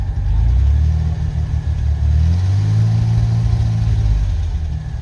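A 1989 Ford F-150 engine runs steadily up close with a slight misfire, its low rumble continuous and loud with small uneven stumbles and slight rises in revs, no talking.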